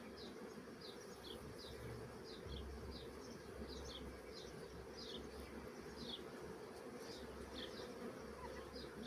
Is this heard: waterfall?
no